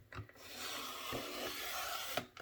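A paper trimmer blade slides through a sheet in one continuous close scraping stroke, framed by a few soft clicks and taps at the start and end.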